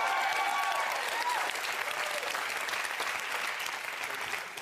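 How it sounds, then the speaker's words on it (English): Studio audience applause on a daytime talk show, loud, dense clapping filling the whole stretch without a break and fading slightly at the end. "Don't clap for yourself."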